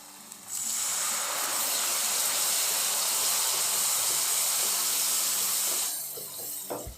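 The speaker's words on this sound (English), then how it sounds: "Now we are going to add the vinegar." White vinegar poured into a hot pan of prawn pickle sets off a loud, steady hiss that lasts several seconds before fading into quieter sizzling.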